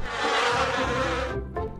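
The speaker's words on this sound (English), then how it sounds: "a bee," A bee buzzes in a short sound effect, a loud, close, continuous drone that cuts off abruptly, followed by a brief faint tail.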